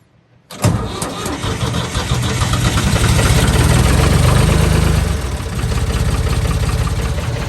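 A glow-plug diesel tractor engine cranks over and catches after about half a second, then settles into a steady, loud, close rumbling idle that continues to the end.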